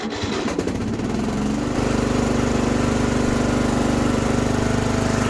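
A Murray 14.5 riding mower engine, freshly fitted with a new carburetor, cranks briefly and then catches into a steady, even, loud running drone close by, with no talking.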